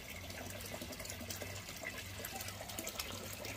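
Steady splashing and trickling water from a small waterfall in a koi pond holding guppies, continuous and close, with a low hum underneath and no voices.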